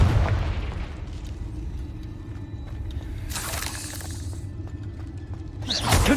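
Spell explosions from Confringo and Bombarda in the game Hogwarts Legacy: two loud, broad blasts with a rumbling low end, one lasting over a second midway and another bursting near the end, over continuous low background rumble.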